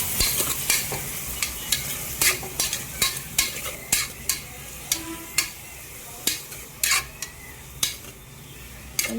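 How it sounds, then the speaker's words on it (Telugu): Onions frying in a pan, stirred often, so a steady soft sizzle runs under a regular series of sharp spatula scrapes and taps against the metal, close and fairly loud. "ఉల్లిగడ్డ వేసుకున్నాక కొద్దిగా ఉల్లిగడ్డ మగ్గనిద్దాం"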